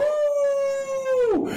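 A man imitates a wolf howling at the moon, one sustained, steady, loud vocal howl held close for over a second before dropping away at the end.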